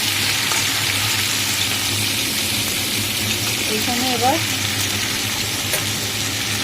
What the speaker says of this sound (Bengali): এই যে আলুটা ভাজা হয়ে গেছে, এবার এঁচোড়টা ছেড়ে দিয়েছি, এঁচোড়টাও ভাজা ভাজা হবে।